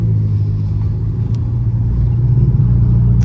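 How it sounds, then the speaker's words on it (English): A 700-horsepower BMW M6 Gran Coupe with a slightly louder-than-stock exhaust rumbles steadily up close, a deep continuous engine drone that rises a little toward the end, heard alone without talk. "This is just like a bit louder than stock, but the tone is the same, I'd say, as like the stock exhaust."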